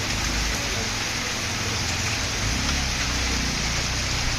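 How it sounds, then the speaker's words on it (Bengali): Heavy rain pours steadily at night on a lit street where vehicles pass, a dense, continuous roar of drops with no break and no voices. "কত দ্রুত বৃষ্টি হচ্ছে।"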